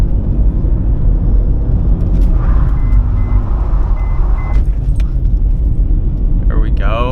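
Honda Accord sliding through a street corner on wet pavement after snow, with a steady loud engine and road rumble throughout and people talking over it.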